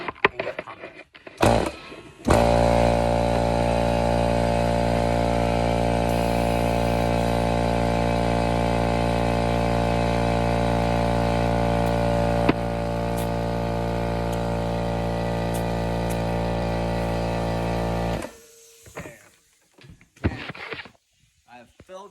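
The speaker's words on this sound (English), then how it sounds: "so I'm gonna turn it on and get pumping" An electric air pump inflates a bicycle tire, running as a steady loud motor hum with a strong buzzing drone for about sixteen seconds before switching off, with brief handling noises before and after.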